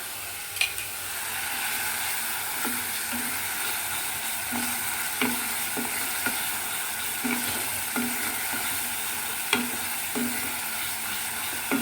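Masala with Kashmiri red chilli powder fries in oil for rajma, a steady close sizzle broken by repeated spatula scrapes and taps as it is stirred continuously, with no talking.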